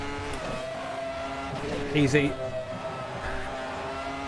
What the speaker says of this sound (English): this is Ferrari's first V10 F1 car in modern history